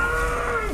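An albino water buffalo at a cattle market gives a single loud, close, sustained low moo lasting under a second.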